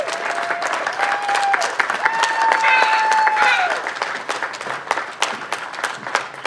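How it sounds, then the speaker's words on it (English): A festival opening ceremony audience breaks into sustained applause, dense clapping filling the space from start to finish, with cheering and a few voices rising over it. "Please join me in applause as we welcome them to the stage."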